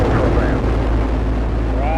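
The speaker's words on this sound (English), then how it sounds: "Booster ignition and liftoff." Space Shuttle Endeavour's boosters ignite at liftoff with a massive, steady roar. The deep, broadband rumble stays loud and unbroken for the whole moment.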